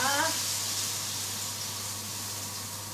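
Spring rolls fry in hot oil in a wok, giving a steady, close hiss and sizzle that stays even throughout, with a brief bit of voice at the start.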